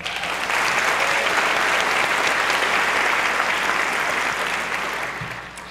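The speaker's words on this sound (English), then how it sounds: "How about we give them a round of applause?" Audience applause at a Plano ISD Academy High School senior class graduation ceremony: dense, steady clapping from a large crowd that holds for about five seconds, then tapers slightly at the end.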